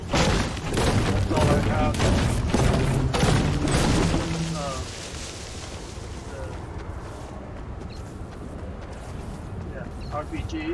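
Heavy booming gunfire and explosions from a zombie shooter video game, with rapid continuous bursts loud for the first four seconds, then fading into a lower rumble while a person speaks.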